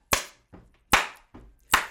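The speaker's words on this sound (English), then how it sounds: "And then we clap." Three sharp group hand claps, each followed by a softer trailing clap, spaced in a steady song rhythm against quiet gaps.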